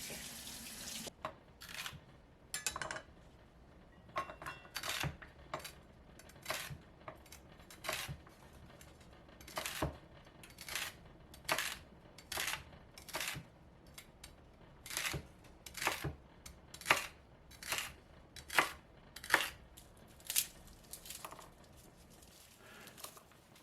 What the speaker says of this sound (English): We'll slice our celery.